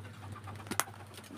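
A male pigeon nearby makes a soft, brief coo over a steady low hum, followed by a sharp click or rustle close to the microphone, with no speech.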